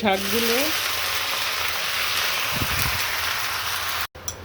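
Spinach dropped into a pan of lightly browned frying onions, a loud steady sizzle close up with a brief stirring rustle, a voice heard at the start.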